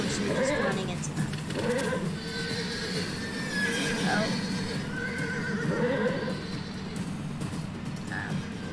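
A horse in the video game Animal Revolt Battle Simulator whinnies and neighs repeatedly amid game clatter, the calls rising and falling over a busy background while a person talks over it.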